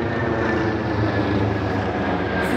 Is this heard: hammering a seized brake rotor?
no